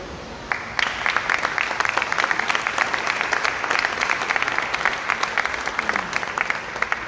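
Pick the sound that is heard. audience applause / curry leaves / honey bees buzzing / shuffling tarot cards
audience applause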